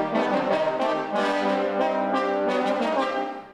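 A pyro-trombone played by a trombone choir, a sustained brassy multi-voiced chord with pulsing articulations, loud and full, no talk.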